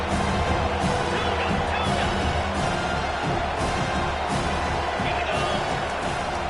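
A football stadium crowd roars steadily on a big third down, with loud, continuous cheering and whoops filling the space at close range throughout.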